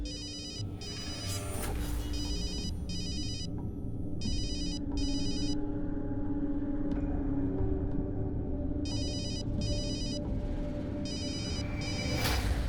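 A telephone rings in repeated double bursts with short pauses between them, over a low background rumble.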